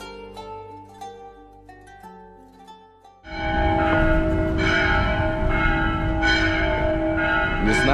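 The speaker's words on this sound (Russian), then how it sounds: "тут паренечек бьет в колокол" A church bell struck by a boy in a Mexican mountain town rings out loud and close, its strikes repeating with long resonant tones after a quieter stretch of street ambience.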